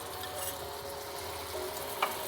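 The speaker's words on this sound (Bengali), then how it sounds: "একটু ভালো করে একটু নাড়িয়ে চাড়িয়ে নেব।" Stirring in a frying pan while Alu Katli is cooked in a Bengali home kitchen, a steady low sizzle with faint scraping and one brief clink near the end, no talk.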